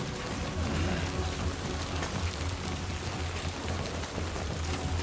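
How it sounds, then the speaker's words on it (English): Steady rain hisses in a video game during a package delivery run, a constant, moderately loud wash with a faint low hum beneath and no speech. "look at the rain. It's even on the screen."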